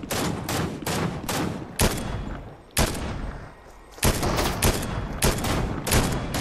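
Fortnite gunfire cracks out loud and close in rapid clusters of sharp shots, with brief pauses between volleys.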